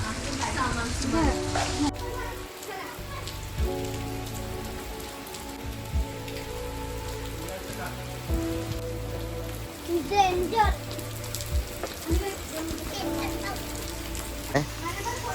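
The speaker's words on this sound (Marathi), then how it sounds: "पाऊस सुरू झाला आहे" Steady rain patters on surfaces close by, with scattered drips and occasional children's voices and talk in the background.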